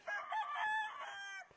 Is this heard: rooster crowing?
yes